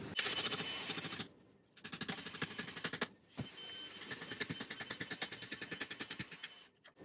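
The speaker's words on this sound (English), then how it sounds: "I'm going to hammer it in to cave it in, and then it'll come out super easily." Hammering chisels into a Vanagon transmission mount held in a vise, rapid loud metallic blows in quick bursts separated by short pauses, close and alone.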